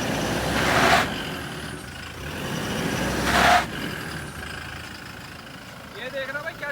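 Toyota Fortuner Legender 4x4 engine revving against held brakes in two surging bursts that swell and cut off, with someone talking throughout.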